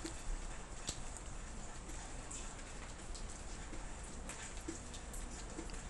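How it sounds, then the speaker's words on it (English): A light drizzle of rain patters steadily as a soft, even hiss with scattered tiny drops, faint and continuous, with no voices. "so far, there's very little rain. Very little. Just drizzle, kind of."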